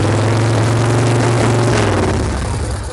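A freshly built Harley-Davidson Shovelhead motorcycle engine runs close up with a sticking throttle cable, a loud steady rumble that lifts slightly as the throttle is adjusted, then eases off.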